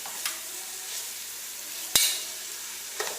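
Onions sauté in a pan for Kabaliyath rice with a soft, steady sizzle, broken by a few distinct clacks of a spoon against the pan, one of them notably sharp.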